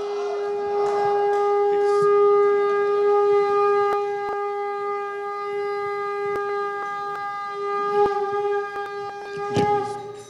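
A conch shell sounded as a ceremonial shankhnad at a televised Uttarakhand political event: one long, loud, steady blare held for about ten seconds, buzzing with harmonics and rising slightly near the end.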